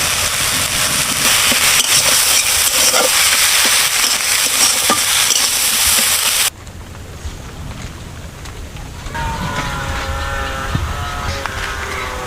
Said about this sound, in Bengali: অনেক সুন্দর করে পাতাটা ভেজে নেব